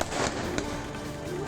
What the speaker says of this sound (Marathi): फटाक्यांच्या आतिषबाजीनं आसमंत उजळला